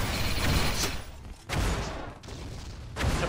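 Gunfire from an Unreal Tournament match with a minigun in play, loud bursts of shots repeating in several waves across the clip, with no talk over them.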